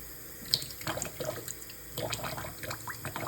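Surgical instruments are rinsed by hand under a running tap: a faint, close stream of water splashing and trickling over metal in a sink, with small clinks and drips and no talk.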